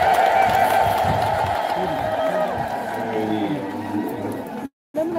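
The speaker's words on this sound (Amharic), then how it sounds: "እልል ብላችሁ እግዚአብሔርን አመስግኑ" A large crowd at an Ethiopian Orthodox Amanuel feast celebration raises loud, wavering ululation in praise, blended with a dense murmur of voices, before cutting out abruptly near the end.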